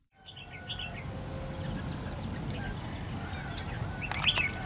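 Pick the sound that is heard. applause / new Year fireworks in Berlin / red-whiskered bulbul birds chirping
red-whiskered bulbul birds chirping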